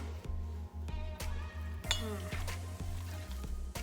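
Corn flour being added and stirred into a beans and beef stir fry produces rhythmic metallic clinks of a spoon against a pan, repeating roughly every few tenths of a second over a soft sizzle, close and moderately quiet.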